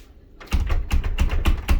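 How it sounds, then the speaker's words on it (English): An indoor door shudders under strong wind pressure, giving a series of about six sharp rattling knocks in a fairly regular rhythm after a brief quiet start, close and moderately loud. "This door shudders"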